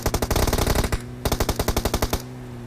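Rapid automatic gunfire in a battle-royale shooter game, two long bursts of evenly spaced loud shots separated by a brief pause.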